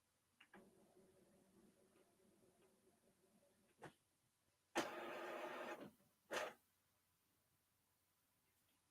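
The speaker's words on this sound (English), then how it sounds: "Let's do a print head clean." An Epson WF2850 printer runs a print head clean: a low mechanical whir for several seconds, a sharp clack, then a loud, broad rushing burst of about a second and another short loud burst, with quiet gaps between.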